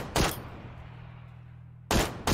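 Two sharp bursts of gunfire in the shooter game PUBG, one near the start and another near the end, separated by a quieter stretch with a low steady hum.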